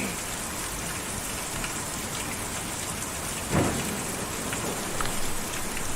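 Steady rain falls in the Kentucky Route 0 game scene, a dense continuous hiss that stays even throughout, with a brief low rumble partway through like distant thunder.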